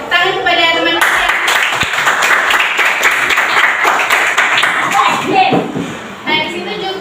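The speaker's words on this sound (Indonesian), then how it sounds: "tepuk tangan kepada teman kalian" Sustained applause from a school class for a classmate during a classroom guidance lesson, dense clapping from many hands with children's voices mixed in, followed by a teacher speaking.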